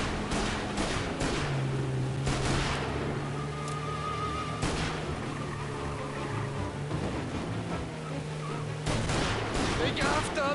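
Gunfire in the video game Mafia: Definitive Edition during a car chase, with repeated sharp shots and bursts over a constant engine rumble, loud and close throughout.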